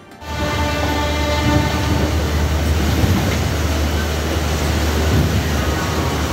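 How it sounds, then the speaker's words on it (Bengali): A passenger train rolls steadily along the rails, heard from inside with a continuous broadband rumble and faint clatter, loud and unbroken throughout. "ওরা 10 মিনিট লেট করে ছেড়ে দিল আমাদের ট্রেন"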